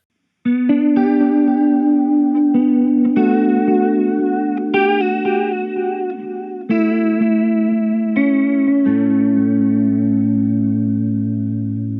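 Electric guitar played through an H2O Liquid Chorus & Echo pedal with both effects combined, ringing chords with shimmering modulation and repeating echo tails, loud and continuous, ending on a sustained low note with no talk.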